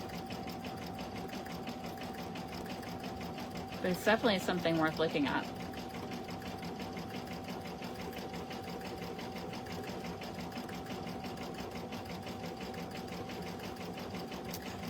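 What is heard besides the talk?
sewing machine stitching a freestanding design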